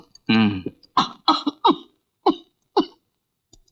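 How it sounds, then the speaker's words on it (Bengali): An elderly mother coughs in a Bengali film scene: a string of about six short, harsh coughs close by, with a brief vocal sound among them. "কাশি সেরে যা।"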